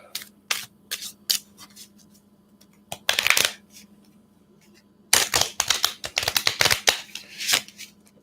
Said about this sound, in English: I will shuffle these a little bit longer